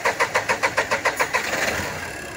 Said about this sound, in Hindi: ये काफ़ी लंबा क्रैंकिंग लिया